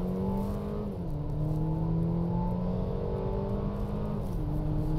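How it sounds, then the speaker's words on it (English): A 2021 Mercedes GLB250 turbo four-cylinder with an 8-speed dual-clutch transmission accelerates hard onto a freeway, a loud, steady engine drone climbing in pitch and dropping briefly at two gear shifts. "jumping on the freeway, we can feel the power of the turbo"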